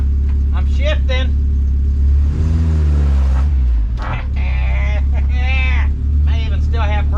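An old U-Haul truck engine drones loudly and continuously during a test drive, pitch rising with acceleration and dropping through gear shifts, while someone talks over the running motor.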